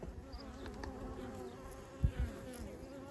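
Honey bees buzz around their hives in spring, some robbing out a dead colony; a soft, steady hum of many insects at moderate distance, with a couple of nearer low thumps partway through.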